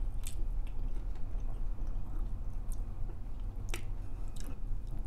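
Close, wet chewing and biting of a meatless burger with sweet and spicy sauce, occasional crisp crunches, steady and intimate, no talking.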